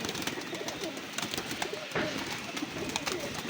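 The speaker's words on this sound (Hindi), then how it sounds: "आज हम अपने घर के कबूतर दिखा रहे हैं" Breeder pigeons coo softly nearby in low, rounded calls, over a background of rustling and faint ambient noise.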